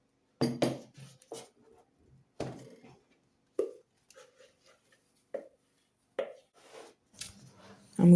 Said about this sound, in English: I'm going to transfer all that into the pan.